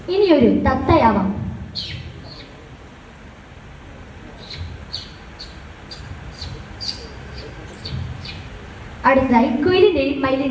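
A man mimics a parrot's calls with his voice on a mimicry stage, giving a run of short, sharp chirps in quick succession between bursts of talk at the start and end.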